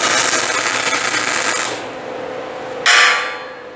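A welder lays tack welds on the steel frame of a homemade trailer, a loud close crackling hiss that runs for nearly two seconds, stops briefly, then flares again in a second short burst.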